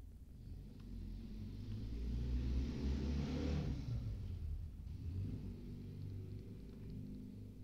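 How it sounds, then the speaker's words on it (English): A car passes outside, its low rumble swelling and fading away, muffled by walls, followed by faint steady traffic hum. "Sorry for the sounds of cars and stuff."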